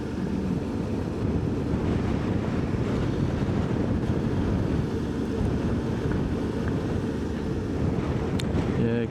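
Choppy sea waves and wind at a beach: a steady, fairly faint wash of rough water with wind rumbling across the microphone throughout, and no talking.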